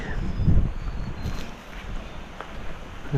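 Strong wind buffets the microphone in heavy low rumbles, gusting loudly at first and then easing, with no one speaking.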